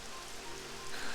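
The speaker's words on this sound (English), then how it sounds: "It would have to go and start raining, wouldn't it?" Rain starting to fall in the video game Dragon Quest 11, a steady broadband hiss of drops on the ground that swells slightly toward the end, with no speech over it.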